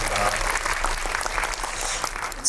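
A cinema audience at a Korean film talk event applauds the writer and his fans present, with steady dense clapping throughout and a voice talking over it near the end.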